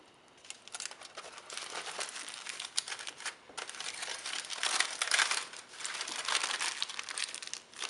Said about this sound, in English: you're going to wrap the jar tightly with tin foil so that no light exposure can get into the jar